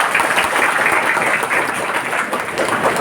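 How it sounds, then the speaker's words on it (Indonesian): Applause from the audience at a political gathering in Banjarnegara where DPR-RI and DPRD programs are presented, a steady dense wash of clapping that stays even and fairly loud for the whole stretch, with no voice over it. "Tepuk tangan untuk kita."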